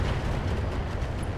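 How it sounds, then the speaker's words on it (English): Bombs detonating on a railgun turret in the mech game RogueTech, a continuous heavy low rumble of explosions lasting throughout, loud and dense with no distinct separate blasts. "we are going to drop our bombs on this railgun turret"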